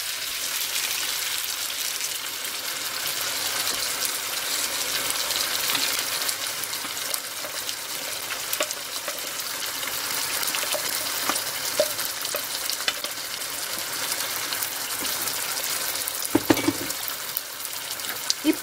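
Chopped tomatoes frying in a pan for a fish curry, a loud, steady sizzle and crackle with occasional stirring clatter near the end.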